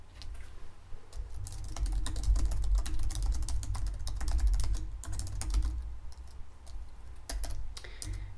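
Typing clatters on a computer keyboard as card details are entered at a hotel front desk. The keystrokes come in fast, close bursts with short pauses, softly muffled, and no talk is heard over them.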